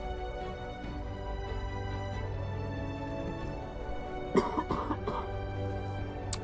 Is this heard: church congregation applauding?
no